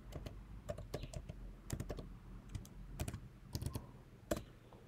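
A new password being typed on a MacBook keyboard: a scattered run of light, quiet key clicks with uneven pauses, recorded close with no talking.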